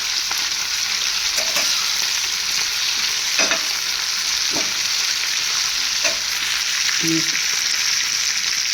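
Raw flat beans frying in a pan, a steady loud sizzle with occasional stirring scrapes and clinks throughout.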